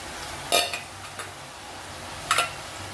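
Coconut being stirred into a cooking pot with rice, giving a couple of sharp scraping clatters, one near half a second in and another near the end, with quiet gaps between.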